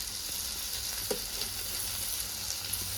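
Bombil, or Bombay duck fish, fries in hot oil on a home gas stove, giving a steady, even sizzling hiss with a few faint pops and clinks.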